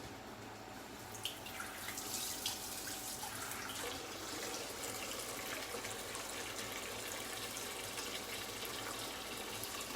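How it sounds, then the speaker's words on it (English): Tap water runs steadily into an asparagus pan in a home kitchen, a continuous low splashing fill that stays even throughout, fairly quiet and with no talking. "I'm going to get a bit more water in my asparagus pan first."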